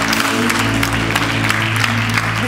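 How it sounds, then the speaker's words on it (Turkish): Studio audience applause on a Turkish TV matchmaking show, loud continuous clapping close by, with a faint voice or two beneath it. "Alkışlıyoruz Emine Hanım."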